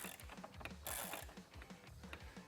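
Headlight aim adjuster on a Jeep JL being turned with a tool, producing a rapid series of small ratcheting clicks, faint and close, in a steady rhythm.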